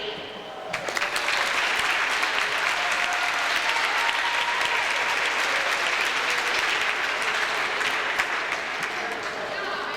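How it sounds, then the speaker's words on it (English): Sustained crowd applause in a gym at a little league basketball trophy presentation, a dense continuous clapping that swells quickly and holds steady, with voices faintly beneath. "Let's give a big round of applause for our officials."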